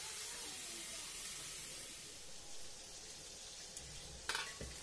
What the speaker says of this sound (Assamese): এইফালে কেৰাহীটোত মই ভাজিখিনি বহাই দিছোঁ